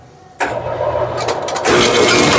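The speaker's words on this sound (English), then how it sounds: "Let's trip the clutch first and then power the machine on." A Brunswick A2 bowling pinsetter powering on, a sudden loud mechanical start followed by a steady running whir that steps up in level after about a second, close and with no talking.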